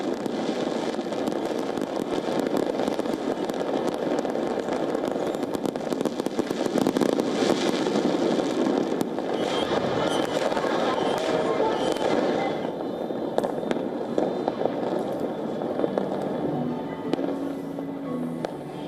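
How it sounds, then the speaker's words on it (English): Rapid crackling and popping fireworks burst continuously in a dense, loud barrage, with faint voices and crowd noise mixed underneath, at a massive New Year 2025 display over the Jakarta skyline. "ushered in the new year with a massive display of fireworks and drone light show over the skyline"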